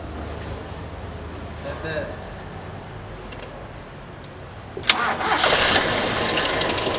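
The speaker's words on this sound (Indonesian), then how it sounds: "Silakan di start engine-nya." A vehicle engine is cranked and catches at a workshop check, a sharp starter burst followed by a steady idle hum, after a stretch of quiet background.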